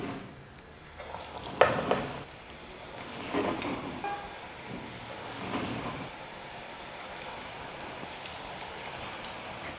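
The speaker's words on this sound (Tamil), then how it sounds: "எண்ணெய் நல்லா காஞ்சதுக்கப்புறமா ஸ்டவ்வை மீடியம் ஃப்ளேமில் வச்சுட்டு போண்டா போட்டுக்கலாம்" Bonda batter dropped into hot oil on a medium flame sizzles with a soft, steady hiss and occasional light clinks, quiet and close throughout.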